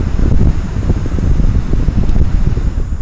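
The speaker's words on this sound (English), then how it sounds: "But the fan is spinning." A small cooling fan in a converted computer power supply spins with a steady, loud whirring rush, heavy in low rumble and mixed with some background noise, holding constant throughout with no talking.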